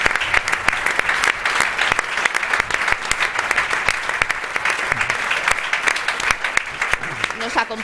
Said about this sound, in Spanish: Un aplauso fuerte para él por todo el trabajo que desarrolla.